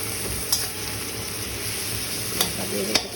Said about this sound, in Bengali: দেখো পেঁয়াজ আর টমেটোটা একটু ভাজা ভাজা করে নিলাম